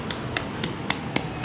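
Ginger chutney with garlic, mint and pomegranate seeds is pounded in a mortar with a pestle: six sharp, close knocks in a steady quick rhythm, with no talking.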